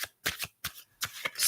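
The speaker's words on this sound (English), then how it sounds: "Let's do a quick shuffle." Tarot cards being shuffled by hand, a series of four or five quick papery riffling bursts separated by brief silences, close and fairly quiet with no talk.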